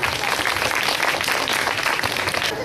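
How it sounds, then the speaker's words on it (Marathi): An audience at a Women's Day programme breaks into steady, dense applause, many hands clapping continuously at moderate loudness throughout. "याला सर्वांनी आपल्या टाळ्या वाजवून प्रतिसाद द्यावा"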